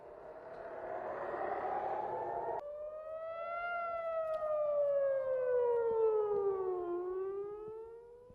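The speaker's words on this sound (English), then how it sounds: "air raid sirens sounded in multiple areas" A loud air raid siren wails steadily, its pitch sliding slowly up and then down in long sweeps, with no voices over it.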